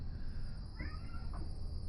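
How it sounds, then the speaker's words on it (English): A house cat meows in a kitchen during jerky preparation, one or two short cries in the middle of a steady background hum, fairly close. "I know, damn cat."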